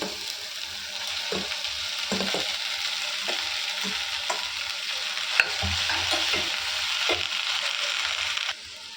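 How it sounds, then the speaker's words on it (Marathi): Okra frying in oil in a pan, a dense steady sizzle with regular scraping and knocking strokes from a spatula, close and even until it cuts off near the end. "जेणेकरून ही जी भेंडी असतात ना ती आपण फ्राय करणार आहोत ऑइलमध्ये"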